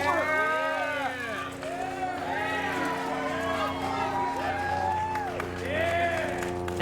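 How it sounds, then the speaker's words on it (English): A crowd outside the Pike County Courthouse in Milford cheers and shouts, voices rising and falling loudly in waves over a constant background hum, with a few scattered claps mixed in. "That cheering from a crowd outside the Pike County Courthouse this morning in Milford"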